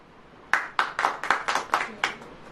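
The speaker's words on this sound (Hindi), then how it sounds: "ताली बजाएं।" A congregation at a Hindi-language Christian sermon claps hands in a short burst of about eight sharp, fairly evenly spaced claps that start abruptly after a brief quiet moment. The claps are close and distinct rather than a blended roar.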